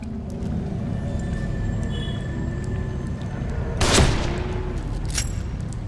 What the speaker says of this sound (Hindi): So I don't have gun, so I will use the sniper rifle.